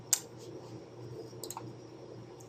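A computer mouse clicks on a hospital records screen in quiet room, one sharp click at the start followed by a couple of softer clicks later.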